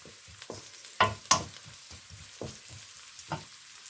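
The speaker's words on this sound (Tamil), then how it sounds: "நான் கொஞ்சம் கூடுதலாக தான் கறி லீவ்ஸ் போடுறேன்." Curry leaves fry in a pan for a fish curry, with sharp crackling pops and bursts of sizzle, a few loud spatters among quieter sputters close by; nobody talks.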